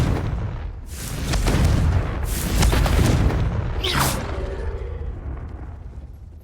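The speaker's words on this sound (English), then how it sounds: "Confringo!" The Confringo fire spell explodes in the Hogwarts Legacy video game with a loud, close booming blast and heavy rumble. A second burst and a sweeping whoosh follow before the roar fades out.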